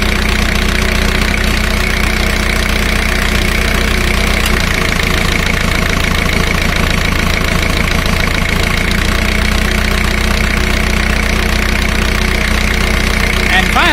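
A car engine idles through a cylinder power balance test, a loud, steady mechanical hum whose rhythm roughens and shifts partway through as one cylinder is cut, then settles again.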